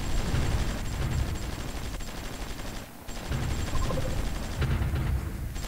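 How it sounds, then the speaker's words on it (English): Mortar fire during a video game battle comes as a dense, continuous barrage of booming blasts and crackling shots, with a brief lull before the rumbling volleys resume. "Okay, that's a lot of mortars."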